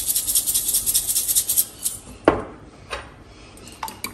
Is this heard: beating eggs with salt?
yes